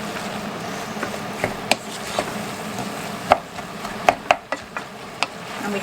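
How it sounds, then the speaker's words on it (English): A spoon stirs rice into a mixture in a bowl, making irregular light clicks and scrapes over a steady low background, close and fairly soft. "So we stir the rice in too."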